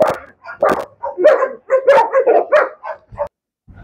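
Close, loud dog barking on a farm, a quick string of sharp barks and yips with a few whimpering notes, ending in a short pause and one soft final sound.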